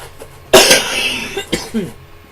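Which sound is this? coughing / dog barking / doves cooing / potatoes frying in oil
coughing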